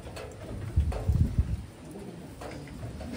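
A pigeon gives a short, low cooing call nearby, soft throaty pulses against quiet background noise.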